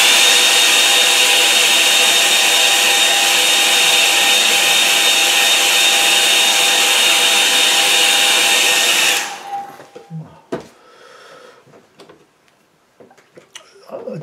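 A handheld hair dryer blows loudly and steadily over wet watercolour paint for about nine seconds, then cuts off, leaving quiet handling noises and faint rustling.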